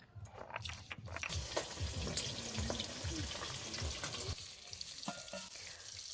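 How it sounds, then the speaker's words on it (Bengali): Fish sizzling loudly as it fries in hot oil for a Bengali dish with potatoes, a dense steady crackle broken by scattered sharper pops and clinks. "এবার সবার প্রথমে মাছগুলো তেলের ওপরে ছেড়ে দেব।"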